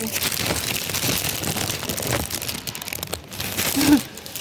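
A plastic bag crinkles and rustles close by in a continuous, fairly loud stretch of crackling, with a sharper crunch near the end.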